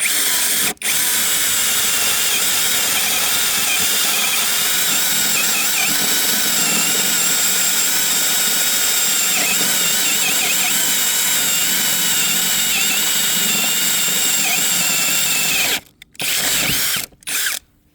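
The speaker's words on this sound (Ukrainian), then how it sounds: "Покажу, як граба свердлить." A cheap cordless drill whines loudly and steadily as it bores into a hornbeam board, cutting out briefly near the end before a couple of short bursts.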